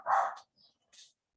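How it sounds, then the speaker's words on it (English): A dog gives one loud, close bark followed by two short, faint yelps or whines, heard alone with no talking. "Ignore my dog."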